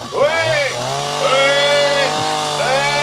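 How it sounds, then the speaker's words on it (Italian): A chainsaw engine runs nearby, its buzzing whine surging up and down in pitch as it is revved repeatedly. "accendo la motosega"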